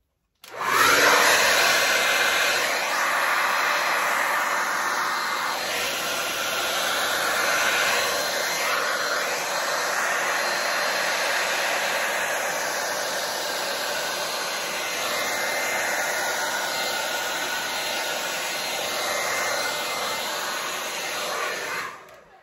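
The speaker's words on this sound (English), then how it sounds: "Let me get my hair dryer." Hair dryer blowing across a fluid acrylic Dutch pour painting, a loud continuous whooshing whir starting abruptly and holding steady for about twenty seconds with slight shifts as it moves, then cutting off.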